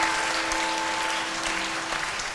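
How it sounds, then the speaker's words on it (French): Steady applause from an audience at a spiritual school celebration, dense and even throughout the short stretch with no voices. "Sous vos applaudissements"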